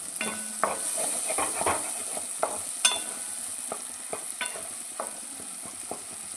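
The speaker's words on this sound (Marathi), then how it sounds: "आता छान तेल सुटेपर्यंत याला चांगलं भाजून घेतो" Tomatoes roasting in oil in a pan, a continuous soft sizzle and hiss with irregular stirring scrapes and clinks, close and steady without any talk.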